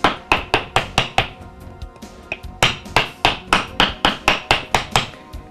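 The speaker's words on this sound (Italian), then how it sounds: "martelliamo." Sharp, regular hammer blows on a hard wooden block laid over a scale-model workpiece, about a dozen strikes with a brief pause midway, loud and close.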